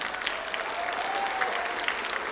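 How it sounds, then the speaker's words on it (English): Applause from a school band concert audience for the jazz band, a steady wash of many hands clapping at moderate distance, continuous and even throughout. "One more round of applause for the jazz band."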